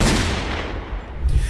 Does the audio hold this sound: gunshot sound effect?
yes